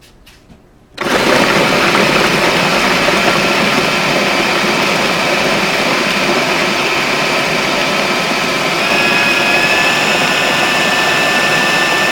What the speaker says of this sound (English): So I'm gonna start blending.